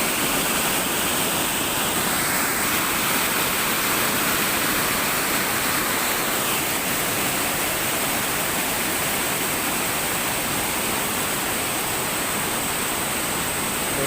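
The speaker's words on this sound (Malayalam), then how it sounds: "ഈ വെള്ളം മുകളിൽ നിന്ന് ഇങ്ങനെ ഒലിച്ച് ഇങ്ങനെ വരികയാണ്." Water flowing down over rocks in a small forest waterfall, a loud, steady rushing roar heard close and unbroken with no voices.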